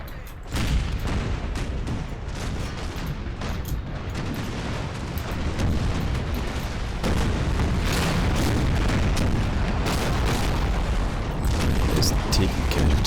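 Cannon fire with solid shot in the Empire: Total War video game, a continuous roar of booming artillery volleys and rumbling impacts, dense and loud throughout, with someone talking over it.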